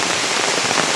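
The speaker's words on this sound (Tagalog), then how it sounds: "Buruwisan Falls pag naulan." Steady rain pours down at a waterfall, a dense, loud hiss of drops hitting surfaces that fills the whole moment without a break.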